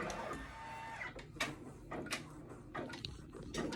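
A Brother PRS 100 embroidery machine stitching, a close mechanical whirring with rhythmic needle thumps and clicks repeating about every half second, moderately quiet and without voices.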